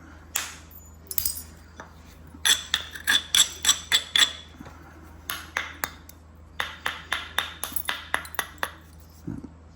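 Flint knapping by direct percussion: sharp, ringing stone-on-stone strikes land in quick bursts of several blows, with pauses between groups. The strikes are close and crisp, with faint scraping between them and no talk.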